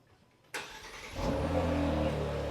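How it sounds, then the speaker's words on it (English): A Kia Stinger GT Elite, started by remote start, cranks and fires up, then settles into a steady, deep exhaust rumble at idle, close and loud. "I'm just going to remote start the vehicle so we can listen to that exhaust note."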